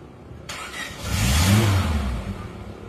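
A Suzuki Jimny engine, ex-racing with the engine recently taken down, bursts into a quick, loud rev that peaks and then eases back, heard up close with no voices.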